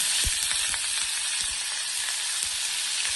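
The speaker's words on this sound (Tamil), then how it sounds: "இப்போ கருவேப்பிலை போட்டோம்." Curry leaves and garlic sizzle in hot frying oil for mango thokku, a steady bright crackle throughout with a few soft low thumps from stirring, no talking.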